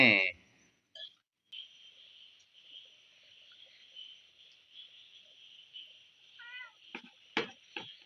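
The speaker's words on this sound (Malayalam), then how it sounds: "ഏ നമ്മളെ പൂച്ച വന്നിട്ടുണ്ടേ" A cat gives a few short, close meows near the end, rising over a steady high insect drone that runs through the quiet surroundings.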